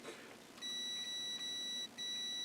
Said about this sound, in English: Always check your beep beep stick to make sure you're beeping